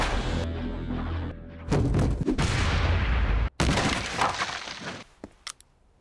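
Gunfire from Togusa in an anime action scene, loud bursts of shots and crashing impacts over a dense, noisy soundtrack, fading into scattered sharp cracks near the end.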